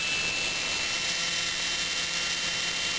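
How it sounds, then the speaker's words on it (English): A small universal motor from an Arctic fan runs at high RPM with a loud, steady high-pitched whine and hiss, unchanging throughout. "Here, I'll plug in this mini motor to show you the RPMs it makes."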